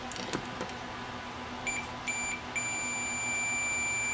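A multimeter continuity tester, used while repairing a broken wire in a Panasonic AG-HVX200 camera, gives a few short beeps, then one steady high tone that holds to the end, over faint room hiss.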